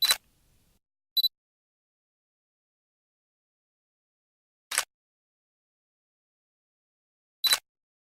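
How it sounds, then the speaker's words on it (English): A camera's electronic and mechanical shutter clicks used as a jetpack switch-on effect: four short, crisp, isolated clicks spread apart over near silence. "And that's the sound of the jetpack being turned on."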